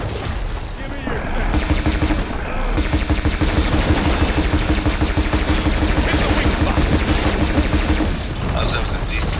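Gunfire during a fight in the game Horizon Forbidden West, a dense, loud rattle of rapid shots that runs steadily throughout, with voices speaking over it.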